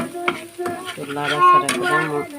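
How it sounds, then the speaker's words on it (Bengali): Fish fries in a pan with a busy, crackling sizzle, broken by sharp clinks and scrapes of a utensil, loud and close, with some voice-like tones mixed in. "মাছগুলো সেভাবে ভাজি করে নিচ্ছি"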